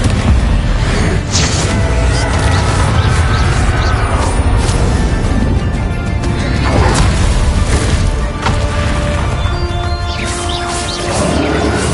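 Confringo fire-blast spells in Hogwarts Legacy go off repeatedly in a loud, dense stretch of bursting, crashing impacts, layered over continuous magical combat noise throughout.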